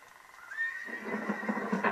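Horse in the video game Red Dead Redemption lets out a loud, shrill whinny that sweeps up and trails off into a shaky neigh, followed by a few faint clip-clop hoofbeats.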